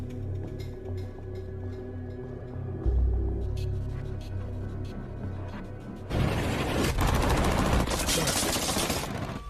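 Gunfire in a film scene with a beautiful sniper: a low rumbling burst gives way to a dense, loud stretch of rapid shots and crackling fire that fills the last few seconds.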